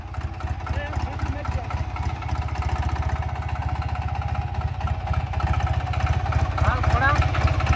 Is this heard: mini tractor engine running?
yes